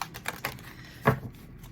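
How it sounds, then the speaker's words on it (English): Tarot cards are shuffled in a few short riffling bursts, soft and close, with brief pauses between the taps. "cards have been pre-shuffled. I'm just going to go a couple more times"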